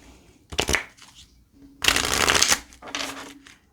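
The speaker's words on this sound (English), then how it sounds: "So we're going to give it a shuffle." A tarot card deck is shuffled by hand in three quick riffling bursts, close and crisp, with brief pauses between them and no talk.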